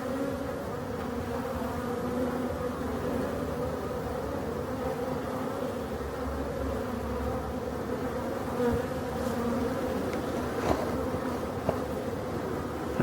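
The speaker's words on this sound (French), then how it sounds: "Alors on peut voir des abeilles qui dansent devant la ruche" Honeybees flying in front of their hives in an apiary, a dense, steady buzzing hum of many wings close by, with a few individual bees passing nearer near the end.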